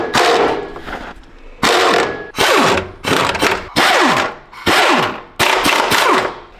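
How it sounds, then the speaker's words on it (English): Rapid bursts of an impact wrench or air gun loosening the motor mount bolts on a 7.3 Powerstroke diesel truck engine, seven or so loud, close whirring blasts with short pauses between them, outdoors in a snowstorm. "So we're gonna go ahead and unbolt those"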